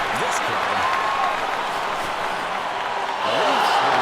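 Arena crowd in the NHL 2K8 hockey video game on PS3 cheering and roaring steadily throughout, a dense, loud wash of voices with a few swelling shouts near the end.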